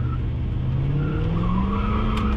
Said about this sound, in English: See? Break the tires loose.